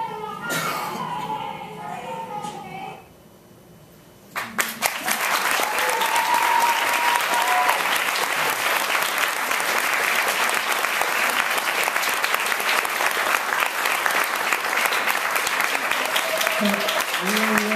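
A large audience at a birthday celebration for Marsha P. Johnson bursts into loud, sustained applause and cheering after a few seconds of speech and a brief lull, continuing densely to the end.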